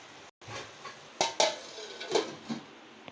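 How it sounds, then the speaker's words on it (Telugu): A metal lid clatters onto a pan of brinjal and chana dal curry, giving a few sharp clanks and scrapes at close range with no talking. "ఇప్పుడు మనం మూత పెట్టుకుని మగ్గ పెడదాం"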